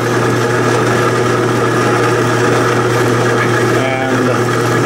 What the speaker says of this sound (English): cutting on a bandsaw is kind of unpleasant and boring